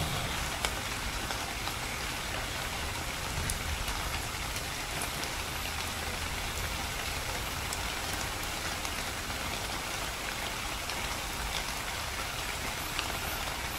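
Rain falls in the video game ARK Survival as a constant, even hiss with scattered drops, steady for the whole stretch with no voices.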